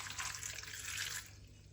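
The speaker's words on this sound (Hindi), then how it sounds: "अब यहाँ पे पानी ऐड करेंगे।" Water pours from a tap into a cooking pot for a bhindi besan dish, a loud, steady splashing rush that drops off near the end, with no voices.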